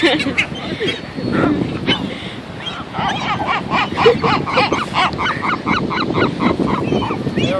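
Gulls on a California beach give loud, repeated honking calls in a rapid series, close by, with a voice talking over them at times.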